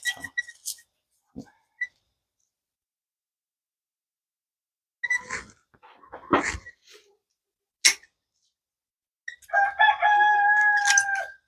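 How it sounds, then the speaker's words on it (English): A rooster crows loudly several times between stretches of silence, with sharp bursts and a final long drawn-out crow close by. "Really don't like that rooster, y'all. I don't know if you can hear him."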